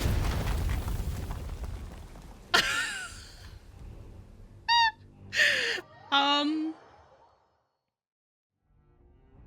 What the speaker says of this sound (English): As an enormous explosion rings out, you all slide to the bottom amidst sloughing rubble and sand.